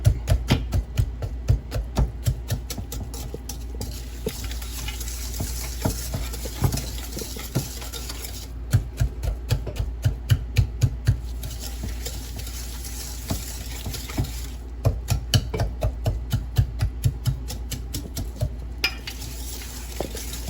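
Oil, sugars and vanilla are being mixed together in a bowl, with a rapid, rhythmic clatter of utensil against bowl. The stirring is close and continuous, with short pauses, and no talking.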